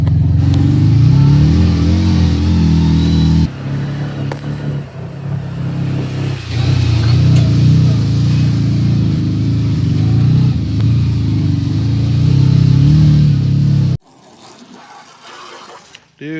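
A 2022 Can-Am Outlander 570 MAX ATV engine roars loudly and steadily with revving surges for about fourteen seconds, then drops abruptly to quieter background noise.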